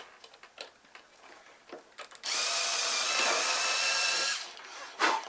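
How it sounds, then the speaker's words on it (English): Power drill boring a hole into a Phoenix Models Genesis model airplane near the rudder, a steady loud whir lasting about two seconds, preceded by small handling clicks and followed by a brief knock. "We want to drill our second hole."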